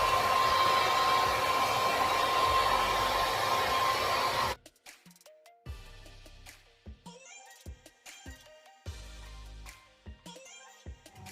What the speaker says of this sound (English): I'm going to go ahead and use a hand dryer